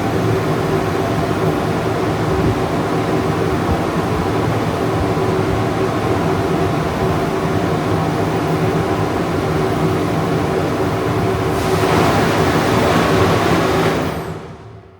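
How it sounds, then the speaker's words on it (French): An old vacuum cleaner with a three-phase motor, newly fitted with a filter cartridge, runs with a loud, steady whooshing roar and hum, its pitch shifting slightly near the end before it cuts off and winds down. "Ça en dit long sur la puissance de cet aspirateur là."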